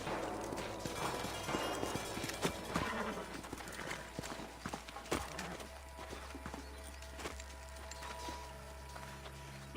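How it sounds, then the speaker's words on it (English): Horses in the Western video game Red Dead Redemption, hooves clip-clopping and a whinny heard over a steady game soundscape with continuous background ambience. "find a spot for our horses"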